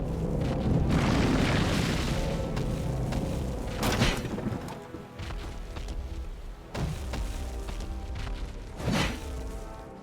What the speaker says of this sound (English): with earth-shaking steps, the unstoppable, if somewhat sluggish evil began its trek towards the front